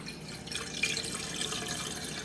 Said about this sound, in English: Filling up my water.